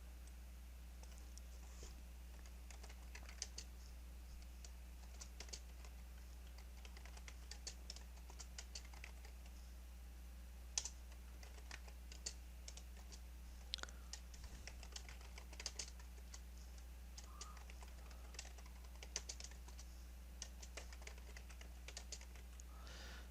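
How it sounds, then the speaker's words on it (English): Computer keyboard typing runs steadily for over twenty seconds, with light, irregular key clicks at close range over a constant low hum. "And start typing."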